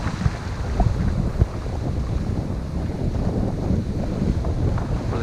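Strong, gusty wind roars across the microphone while sailing on Lake Michigan, a dense, steady rush with buffeting surges and water sounds beneath, loud and continuous with no talk.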